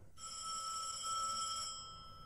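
A telephone bell rings in one steady, sustained burst, fairly faint and somewhat distant, with no voices over it.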